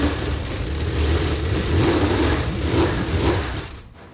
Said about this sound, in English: That's the first baby rev.